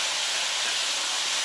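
Chopped onions and celery hitting a hot pan with stuffing meat, a loud, steady broadband sizzle close up with no talk.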